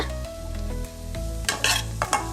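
Finely chopped carrot sizzles in hot oil for pasta while a spoon stirs and scrapes the pan. A steady close frying hiss runs throughout, with clinking stirs toward the end, and no voices.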